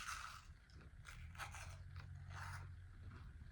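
Crunchy bread spread with butter bitten and chewed close up, a few crisp crackling bites and scraping chews in quick succession, quiet and with no talking.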